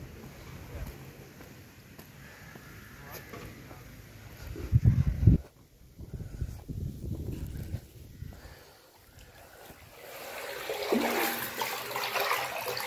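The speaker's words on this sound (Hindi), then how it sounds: "तो पानी बड़ी स्पीड से आ रहा है पीछे" Sewer water rushes fast through a drain line, a churning, gurgling flow that swells and drops over time and grows louder and hissier near the end, with no voices.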